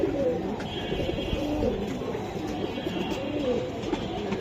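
Large pigeons in a seller's loft coo repeatedly in low, throaty bursts, several birds overlapping at close range against a steady background hum.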